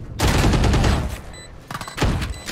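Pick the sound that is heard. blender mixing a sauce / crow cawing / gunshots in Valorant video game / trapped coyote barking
gunshots in Valorant video game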